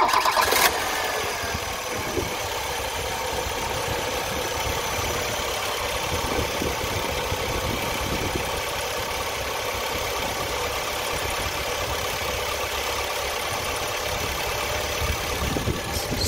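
A car engine cranks and catches near the start, then settles into a steady idle that runs on alone for the rest of the stretch, during checks of a charging system for an undercharged battery.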